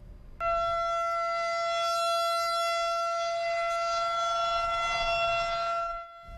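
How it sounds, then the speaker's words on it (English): A steady, loud tornado siren test in Rochester wails with a sustained tone for several seconds, then cuts off near the end. "Those tornado sirens sounded this morning in Rochester"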